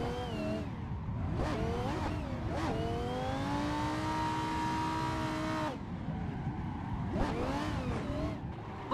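A Lamborghini drift car on factory semi-slicks revs hard in third and fourth gear, the engine climbing in steady pitch as the wheels spin and break traction, with rising and falling engine sweeps before and after under continuous road and tire noise.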